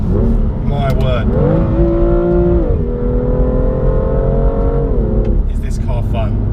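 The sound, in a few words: 2017 BMW M2 engine accelerating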